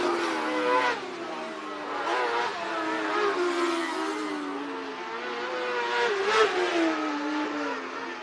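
Race cars roaring around the final lap at Marion County Speedway, a continuous high engine whine with rising and falling pitch as cars chase each other through the corners, loud and steady throughout.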